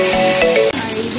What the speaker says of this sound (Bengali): এবার ছোট ছোট করে রাখা ফুলকপিগুলোকে দিয়ে দিচ্ছি, এগুলো একটু ভেজে নেব।